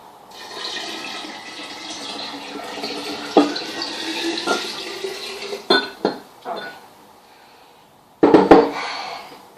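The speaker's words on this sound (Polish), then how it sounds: "Zalewamy to wystudzoną wodą, która była wcześniej przygotowana." Cooled water poured over crushed blackcurrants for homemade blackcurrant champagne: a soft running pour, then a few clinks of glass or utensils and a short louder splash near the end.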